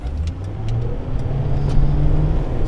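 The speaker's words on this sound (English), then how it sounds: "Let's see if this car will go, because they have the right of way." A car pulls away from an intersection, its engine close and loud, the drone building steadily as it accelerates off.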